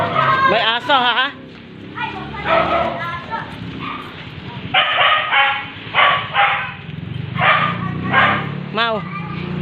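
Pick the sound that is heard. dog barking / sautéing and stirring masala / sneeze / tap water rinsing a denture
dog barking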